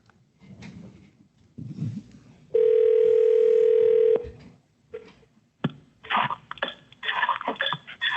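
A telephone gives a loud, steady dial tone for about a second and a half while dialing into a Zoom call, followed by a short tone, then rapid keypad beeps mixed with coughs and handling noise.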